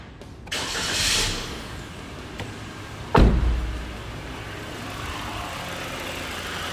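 A supercharged Suzuki Jimny Sierra engine cranks and fires at about three seconds with a sharp burst, then settles into a steady idle hum, preceded by faint mechanical clicks and a whirr.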